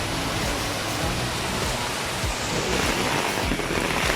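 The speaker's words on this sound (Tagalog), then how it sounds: "He's enjoying the rain because here in the Philippines it's not cold." Steady rain falling outdoors in the Philippines, a dense, even hiss of drops on surfaces that continues without a break, fairly loud and close, with no voices.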